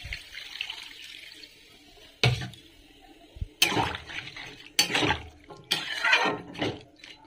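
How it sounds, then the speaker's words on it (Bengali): Water is poured into a pan of amaranth stalks and potatoes for boiling. Several uneven splashing bursts rise over a low kitchen hiss. "আর এখন জলটা ঢেলে দেবো, ডাঁটা আলু একসঙ্গে সেদ্ধ হয়ে যাবে।"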